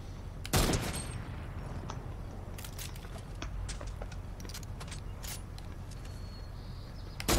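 Gunfire in the Fortnite video game, in scattered distant bursts and single sharp cracks, with one loud close shot near the start and another at the end, over faint background noise.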